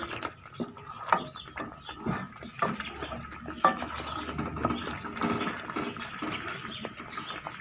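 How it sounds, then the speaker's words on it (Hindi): A spoon works ground salt, cumin, coriander, red chilli and turmeric into a green chickpea curry in a pot, making soft irregular clinks and scrapes against metal, close and moderately quiet, with faint background noises. "इसको अच्छे तरीके से मिक्स कर दें।"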